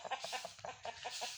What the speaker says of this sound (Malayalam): അത് അപ്പുറത്തുള്ള കോഴിയാണ്.